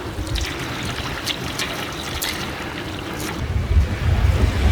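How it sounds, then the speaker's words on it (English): Strong wind of about 15 to 20 knots roars past while sailing Moreton Bay, with waves sloshing against the hull in a continuous rushing wash that swells louder toward the end. "it must be blowing 15 knots, gusting 20 I reckon"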